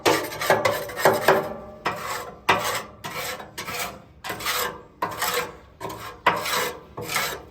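Repeated scraping strokes of ash and caked grease being cleared from the inside of a Lone Star Grillz pellet smoker, about a dozen loud, rasping passes in a steady rhythm with short gaps, close by and with no talking.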